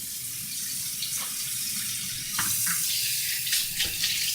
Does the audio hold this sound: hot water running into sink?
yes